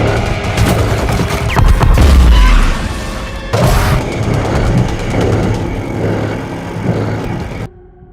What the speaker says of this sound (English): The machine guns turned on and started blasting the weird creatures